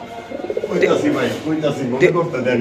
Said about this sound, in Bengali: এটা কি কবুতর ভাই